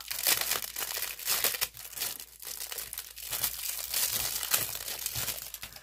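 Continuous crinkling and tearing of plastic packaging as a tube of B7000 glue is opened, close and busy with irregular crackling bursts throughout, no talking.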